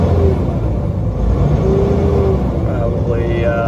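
A 2005 Peterbilt 379 flattop with a Cat C15 diesel engine accelerates in a steady, loud cab rumble with a low drone throughout, while someone talks over it.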